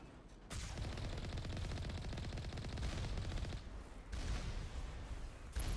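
Turret gunfire in the Mass Effect video game, a sustained dense rattle of automatic shots running for several seconds with a brief dip near the end, loud and with no talking over it.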